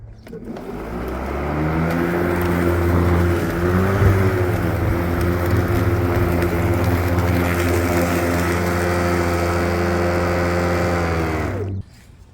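A Ryobi 40V cordless electric lawn mower with a newly replaced blade runs with a steady motor hum, strong low drone and whirring harmonics for about twelve seconds, then cuts off abruptly; no voices.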